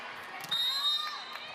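A big home crowd roars steadily in an indoor arena at a PVL Invitational Conference volleyball final, a broad continuous din with a lift in the middle and faint whistling tones on top.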